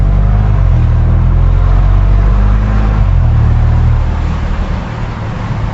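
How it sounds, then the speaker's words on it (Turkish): A Bentley Continental GT with a 500 hp V8 accelerates hard from a standstill toward 100 km/h, its deep engine roar loud and close, a steady full-throttle drone with a brief dip as it shifts gear. "burada bir sıfır yüz yapmamız lazım"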